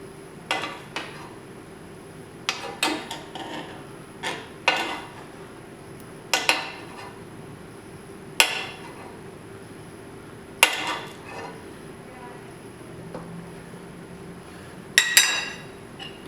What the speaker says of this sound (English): So spoon the melted butter right back over the top of those fillets.